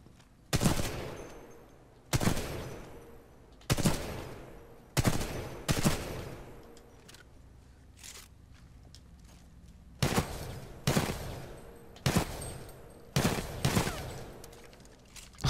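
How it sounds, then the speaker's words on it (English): Short, loud bursts of SMG fire in Titanfall 2, each volley sharp and close, spaced by brief pauses of quiet, with the shooting repeating about a dozen times. "It seems like an SMG of some sort."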